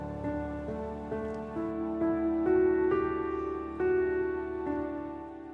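A soft melodic line of single notes steps through the intro of the song King of Kings, about a dozen tones played evenly at moderate pace, quiet and clean with no voices.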